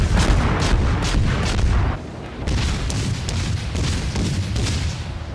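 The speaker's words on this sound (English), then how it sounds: "Fire the other cannons" Warship cannons firing in the naval battle game World of Warships, a run of heavy booming blasts and sharp cracks in rapid succession, loud and close, with brief gaps between volleys and no talk.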